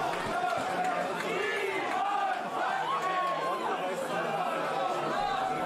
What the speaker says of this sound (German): Die Atmosphäre inzwischen absolut überwältigend bei den 595 Zuschauern